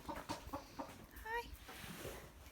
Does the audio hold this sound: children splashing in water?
no